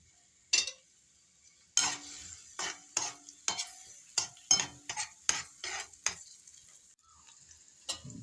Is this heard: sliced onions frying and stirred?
yes